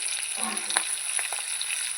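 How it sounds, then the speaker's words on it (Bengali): Fish sizzles in a covered pan as the lid comes off, a bright steady crackle of frying with a few soft clicks and scrapes, heard close with no talk. "এই যে এইভাবে আমি মাছ ভেজেছি"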